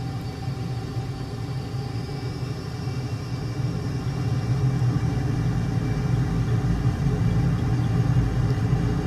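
Steady low jet-engine roar from an F-22A in Microsoft Flight Simulator spooling up for takeoff, a continuous dense rumble that grows louder about halfway through and holds there without any talking.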